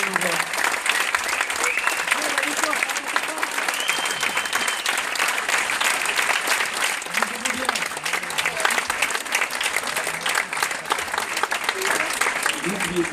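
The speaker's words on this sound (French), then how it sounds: "On peut vous applaudir vraiment." A cinema audience at a film premiere of a French comedy claps in sustained, dense applause that fills the room evenly, with a few voices faintly mixed in under the clapping.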